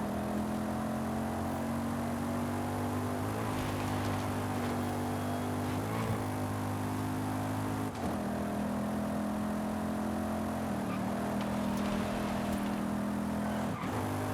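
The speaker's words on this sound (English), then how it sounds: "Now this car sounds awesome." A Forza Horizon 5 video game racing car engine roars steadily at high revs, its droning tone shifting slightly as it accelerates, loud and continuous with no talking.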